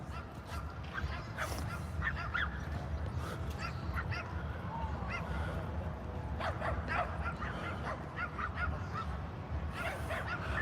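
Dogs barking at a dog park at night, a scatter of sharp yips and barks from several animals at a middle distance over a steady background hum, with some faint talk mixed in.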